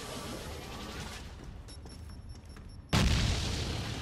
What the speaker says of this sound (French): Des grenades. D'où ça vient?